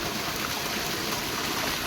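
Water gushes steadily from a motor pump on a village farm, a continuous broadband rushing flow that stays close and even for the whole short stretch, with no talking.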